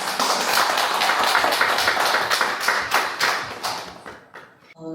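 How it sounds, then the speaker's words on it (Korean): A room of young adults at a year-end party for people living with bipolar disorder claps together, a dense, steady patter of many hands lasting several seconds before tapering off at the end. "박수를 같이 한번 쳤으면 좋겠습니다."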